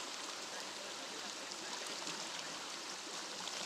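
River current flowing at a spot used for silat footwork training, a steady broadband rush of water with no breaks.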